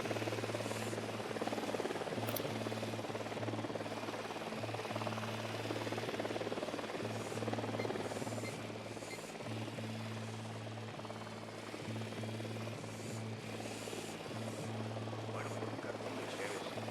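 Helicopter approaching in the Ghost Recon video game, a steady low rotor drone and buzz that runs throughout under faint background game sounds.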